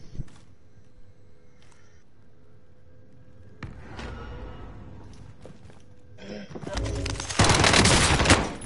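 Shotgun fire in a first-person shooter game, a few sharp blasts followed by a loud, dense burst of gunfire toward the end, with people talking.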